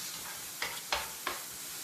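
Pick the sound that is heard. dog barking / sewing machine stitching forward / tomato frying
tomato frying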